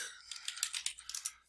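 Quiet rapid keystrokes on a computer keyboard, a short burst of light clicks typed in quick succession with nothing else audible.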